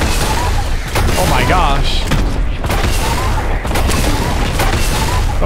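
Fortnite duos fight it out in a dense, continuous barrage of gunfire with booming grenade blasts. It is loud and close, and a voice briefly exclaims over the shooting.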